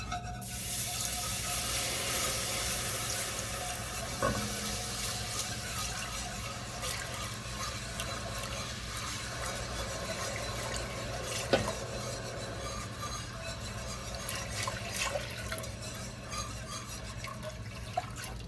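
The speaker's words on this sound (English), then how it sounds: "So let's just go ahead and pour some of this in." Homemade beef stock with a little milk is poured into a pan of Swedish meatballs, a soft continuous trickle and slosh of liquid with faint clinks of cookware across the whole stretch.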